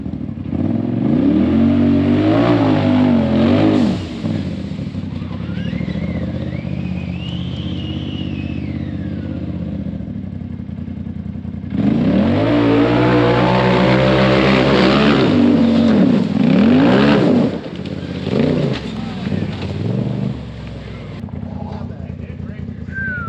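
Can-Am Talon and Polaris RZR Turbo S side-by-side UTVs roar up a steep hill climb, engines loud and straining in two long bursts with a quieter stretch between, while spectators shout and talk over the noise.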